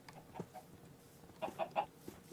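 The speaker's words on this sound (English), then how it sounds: "Looks like this is all just chickens." Chickens clucking in Minecraft, several quiet short clucks scattered across a soft game background, a small cluster bunched near the end.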